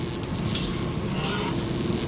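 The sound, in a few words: boiling, sparking liquid flooding machine, from video game Amnesia: A Machine for Pigs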